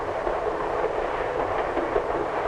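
A 1950s passenger train rolls along with a steady low rumble and continuous rattling of the cars, a dense even drone with faint rhythmic clatter and no voices.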